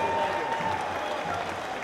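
Crowd applause at an Honor Flight welcome for an Army Vietnam veteran, a dense, steady wash of clapping from many hands, fairly close and sustained throughout without pause.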